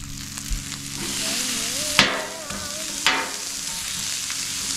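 Egg and rice frying in a pan give a steady close sizzle, with two sharp scraping stirs, no talk.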